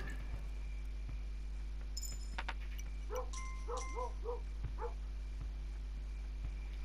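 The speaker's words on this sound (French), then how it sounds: "Il aboie à droite ou j'hallucine ce chien?" A dog in the video game Kingdom: New Lands gives a short run of small yips and barks, faint and set against a steady low game hum and ambient music.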